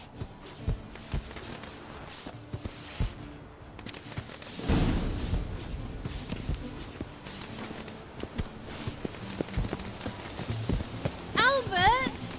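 Horses clip-clop along in The Witcher 3, their hooves sounding as a steady series of close thuds, with light rain pattering, a voice speaking briefly, and a horse snorting near the end.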